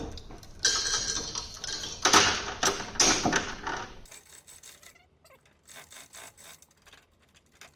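A roll-up door on a shop is pushed up, giving a loud metallic rattling and scraping in broad bursts for about four seconds, then trailing off into softer clicks and rustles.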